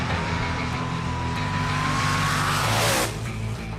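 Bracket drag racing cars roar loudly as one accelerates hard past, engine pitch rising in a sustained howl with tire noise, then dropping off as it moves away.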